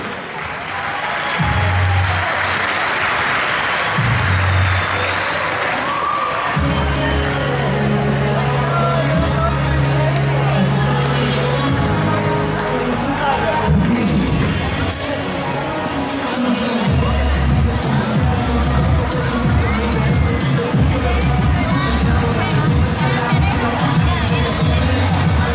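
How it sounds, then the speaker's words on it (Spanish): A crowd cheers and applauds a youth volleyball team entering at the opening of a formative-category volleyball circuit, with loud sustained clapping, shouting children and babble throughout, and an announcer's voice over the noise. "Recibámoslos con un fuerte aplauso."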